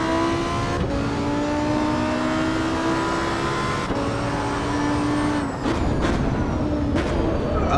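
A Lamborghini Huracan STO engine screams at high revs on a racetrack, loud and close throughout, climbing in pitch and dipping briefly at gear changes.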